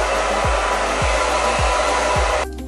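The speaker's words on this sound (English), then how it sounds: "I'm gonna take my Bellami blow dryer and I'm going to dry this." A Bellami blow dryer runs loud and close while drying hair on a wig, a constant roaring whoosh with a few soft thumps, cutting off abruptly just before the end.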